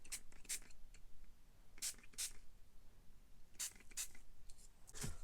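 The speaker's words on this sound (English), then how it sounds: "now using that same mica spray I attempted to dye the staples with, I am going to spray these" Short hissing bursts of a mica aerosol spray, several quick sprays in irregular pairs against a quiet room.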